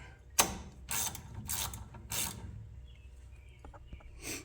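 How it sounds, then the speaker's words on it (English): A socket ratchet clicks in several short bursts while loosening brake caliper bolts on a 1990 Chevy OBS Silverado during a front disc brake job, crisp and close, with quiet gaps between the strokes. "finally got the bolts loose"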